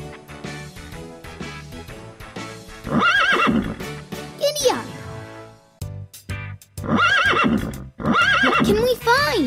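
A horse neighs and whinnies in a children's cartoon game scene, several loud high whinnies rising and falling with hoof clip-clops, mixed with music and a narrating voice.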